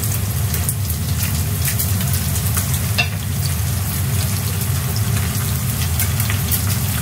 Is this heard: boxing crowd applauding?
no